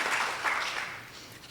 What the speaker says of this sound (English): Another round of applause, please, for our finalists here in this competition.